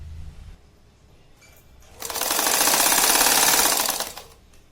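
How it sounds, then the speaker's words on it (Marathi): A sewing machine stitches a belt strap for a shopping bag, running in one steady, fast, close burst of about two seconds after a quiet start, then stopping. "तशीच बेल्टच्या दुसऱ्या बाजूने पण शिलाई घेऊन घ्यायची."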